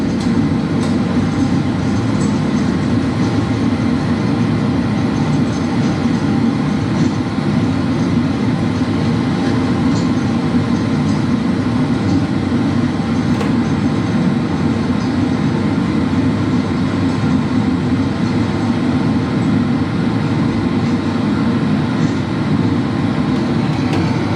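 Airliner engines held at reverse idle in a home flight simulator game, a steady, loud broadband roar that runs unbroken throughout with no talk over it.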